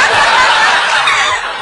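A parrot imitates a chimpanzee with a loud, close burst of harsh, breathy chattering hoots that lasts under two seconds.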